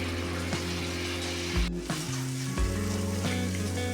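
Spice masala for a black chana chaat cooks in oil in a pan, giving a steady close sizzle with faint stirring, while a sustained tonal hum runs underneath.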